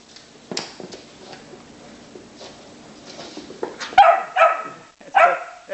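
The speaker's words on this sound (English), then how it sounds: "Don't bark at me." A dog barks and yips in a few short, close bursts near a turtle, loudest toward the end, with softer whimpering sounds before.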